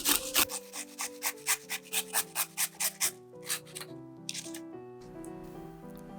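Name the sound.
grating fresh cucumber on a fine grater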